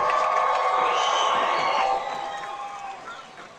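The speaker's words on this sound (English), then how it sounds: "these last few racers, let's cheer them" A crowd at a kids' Power Wheels demolition derby cheers and shouts, a loud, bright burst of voices that gradually tapers off.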